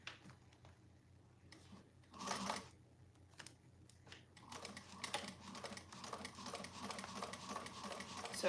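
A sewing machine runs a top stitch on a bag, starting with scattered clicks and handling knocks, then settling into a fast, faint, continuous mechanical rattle for the last few seconds, with no talk.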